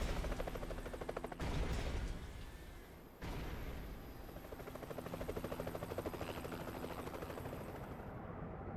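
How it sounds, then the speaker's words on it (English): Helicopters and fighter jets in an Armored Core 4 cinematic: a loud, dense roar of rotor and jet noise with rapid gunfire-like bursts, a sharp break near the middle, then a sustained rumbling barrage throughout. "got like some fighter jets and some helicopters"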